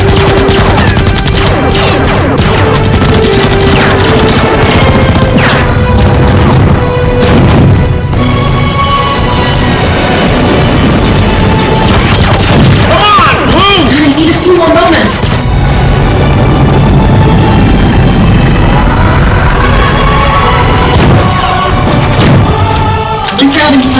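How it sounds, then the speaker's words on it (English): Loud, continuous battle noise from a space adventure film, with rapid gunfire bursts, booms and explosions layered under shouted dialogue. "There's going to be a lot of explosions coming off."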